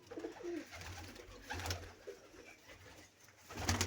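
Pigeons in a loft cooing, with several soft low coos and rustles rising and falling over a few seconds, fairly close, with no people talking.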